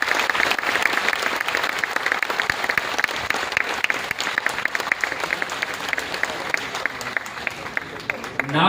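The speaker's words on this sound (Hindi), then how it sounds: "थोड़ा जोर से ये तालियां बजती रहनी चाहिए" An audience in an assembly hall claps loudly and continuously, a dense rattle of many hands sustained for several seconds with a faint crowd murmur underneath.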